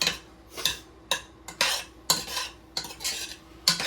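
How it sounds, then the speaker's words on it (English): Utensil stirring pasta with oil in a metal pot for baked mac and cheese, a series of sharp scraping swishes and clinks in an uneven rhythm, close and clear with no talking. "I don't want the pasta sticking to the floor of the pot, so we're gonna try to just get that oil"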